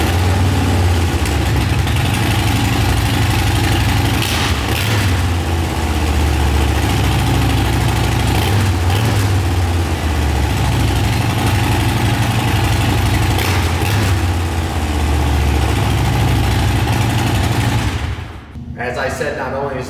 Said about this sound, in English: fire this bike up so you can hear that Vance & Hines